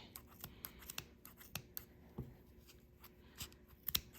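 Scissors snip through yarn loops of a crochet pompom in a series of faint, close, irregular clicks and crunches, with quiet handling rustle between cuts.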